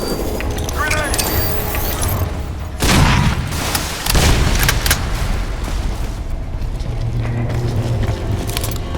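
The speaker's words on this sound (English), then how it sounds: "Grenade!" A grenade goes off in the Crysis 2 Remastered video game, a sudden booming blast amid game combat noise, with a second thump shortly after and shouted voices under the action.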